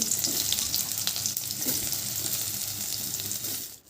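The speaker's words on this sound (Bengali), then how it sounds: "কড়াইয়ের মধ্যে তেল দিয়ে নিচ্ছি এবং সয়াবিনগুলোকে এবার আমি ভেজে নিচ্ছি" Soybean chunks fry in hot oil in a wok, a dense continuous sizzle that stays loud and close for several seconds before briefly dipping near the end.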